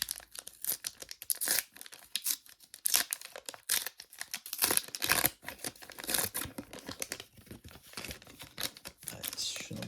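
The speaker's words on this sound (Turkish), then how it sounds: "İkinci paketimizi açalım." A Panini FIFA 365 Adrenalyn XL 2026 premium foil card pack being torn open by hand, crisp ripping and crinkling bursts of wrapper close to the microphone, uneven and scratchy throughout.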